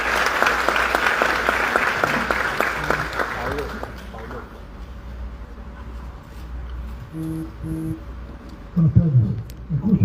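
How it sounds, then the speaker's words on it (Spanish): Strong applause welcomes an engineer taking the stage at a cultural event in San Lorenzo; clapping is loud for about four seconds, then thins out into room noise, with brief tones and a voice near the end. "lo recibimos con ese fuerte aplauso"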